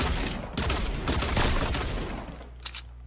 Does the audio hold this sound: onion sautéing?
no